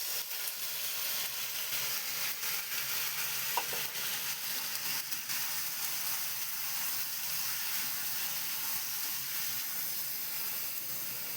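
Taro stolons (kochur loti) hitting a pan of hot oil with cumin, giving a steady soft sizzle and frying hiss that holds evenly throughout, fairly quiet and with no voices.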